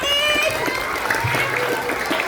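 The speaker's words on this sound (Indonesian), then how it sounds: "Tepuk tangan dulu dong." Children at a school Maulid Nabi celebration clap together in steady, continuous applause that fills the room, with voices mixed in throughout.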